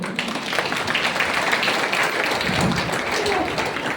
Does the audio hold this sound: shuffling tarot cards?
no